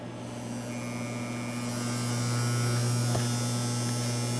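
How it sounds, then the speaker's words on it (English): A wrench carrying around 200 to 900 amps, measured with a Harbor Freight Ames 1000A clamp meter, gives off a faint, steady electrical hum that swells slightly louder partway through and continues alone without talk. "you can probably hear it starting to hum at 200 amps"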